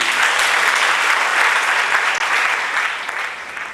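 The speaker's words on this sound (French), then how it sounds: "Qu'elle soit applaudie." A full room claps for the bride newly crowned queen at a civil wedding, steady loud applause holding evenly for several seconds before tapering slightly.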